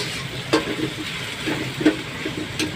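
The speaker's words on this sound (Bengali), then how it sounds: "মাছ বোনা করার জন্য পেঁয়াজ কষানো হচ্ছে" Chopped onions sizzle and hiss in hot oil while being sautéed for a katla fish curry, with a few louder scraping stirs of a spatula against the pan breaking through the steady frying.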